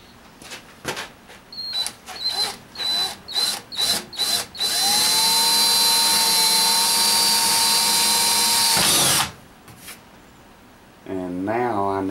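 A power drill runs in short bursts, then one long steady whine for about four seconds while boring a hole for a die tap in a workshop making a TIG torch cooler. Talk follows afterward.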